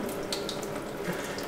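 Water hissing and splashing from a sink faucet supply line left uncrimped during an installation in a sandstone house, a steady close rush with faint dripping accents.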